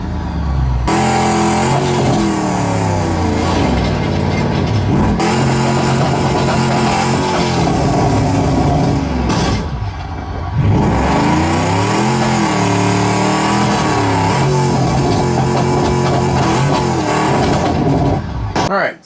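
A truck engine in the BeamNG.drive driving simulator starts and revs loudly, its pitch climbing and falling in repeated sweeps with a brief dip midway, while a voice talks at times.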